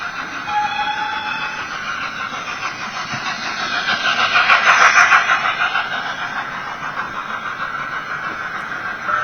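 A model railway train runs with a steady mechanical rumble while a manually triggered horn and whistle swell up midway and fade again.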